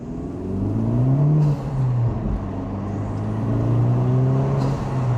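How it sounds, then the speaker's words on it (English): A turbocharged Honda Civic Type R engine with a drop-in air filter pulls hard in second gear and rises in pitch, droning loudly and steadily throughout, as heard from inside the cabin, with a faint high whine on top. "Do a little second gear pull."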